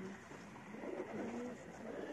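Pigeons coo softly in a breeding loft, a low murmuring warble under faint background noise.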